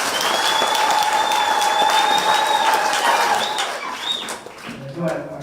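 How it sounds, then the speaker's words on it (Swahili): Applause for guests at a Catholic church gathering, a crowd clapping continuously and fairly loudly, with whistling and voices over it, fading toward the end. "Wapigieni makofi."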